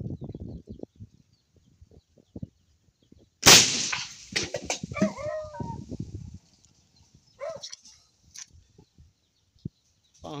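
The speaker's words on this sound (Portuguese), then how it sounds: "Espingarda tem força, viu? Pancada demais." A single loud, sharp gunshot cracks out from a double-barrel shotgun firing a spherical slug at cans, followed by a dog barking and yelping and a few scattered thumps in a quiet outdoor setting.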